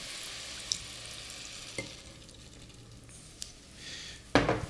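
Broth poured into red cabbage cooking in a pot, soft simmering and sizzling with a few clinks and a louder splash near the end, no talk.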